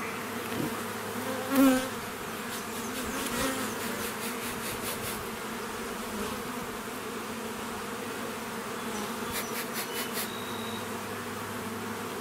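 Honeybees hum steadily at an open hive with drone brood, a close, continuous buzz layered with brief louder passes of individual bees and faint clicks of handling.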